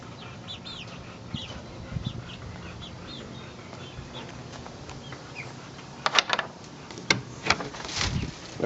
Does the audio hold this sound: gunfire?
no